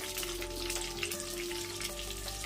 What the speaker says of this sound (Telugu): వీటిని ఫ్రై చేసుకున్నామండి